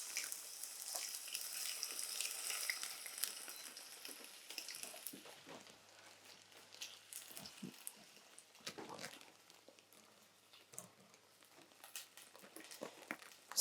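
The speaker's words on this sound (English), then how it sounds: "I love a sizzle." Lamb browning in a hot pan for a spiced stew, a steady crackling sizzle that is strongest at first and then settles into softer popping and spitting, close and with no talking.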